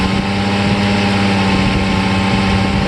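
Mercedes S600 W140 V12 engine idling at a raised, high idle speed, a steady loud hum with constant low vibration and no pauses, close by and without talk.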